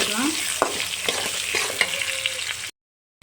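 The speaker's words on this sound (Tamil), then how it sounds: "இந்த வேலையில் வெங்காயத்தை சேர்த்துடுறேன் ரொம்ப கலர் மாறிச்சேன்னா பருப்பு கருகிடும் வெங்காயத்தை லைட்டாக வதக்கி" Onions and lentils sautéing in oil for a knol khol poriyal, a steady close sizzle with a few scraping stirs, cutting off abruptly near the end.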